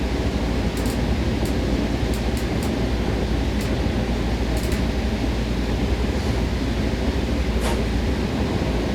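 An older train in Train Sim World 6 runs steadily, a constant broadband rumble and hiss with faint ticking clicks over the top, with no voices.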